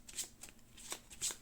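Turn order cards from the Aeon's End Legacy board game being shuffled, giving several quick papery riffles in short bursts, close up and fairly quiet, with no talking.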